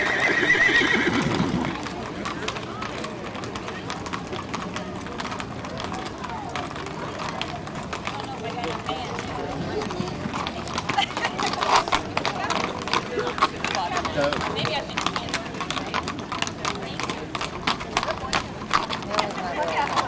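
Horses of the Worth County Saddle Club walk in the Allendale, Missouri sesquicentennial parade, their hooves clopping steadily on pavement with an occasional whinny, amid continuous crowd and street noise.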